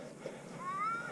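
A cat stuck about 50 feet up a tulip poplar tree meows faintly from a distance, with a thin rising cry standing out against outdoor background noise.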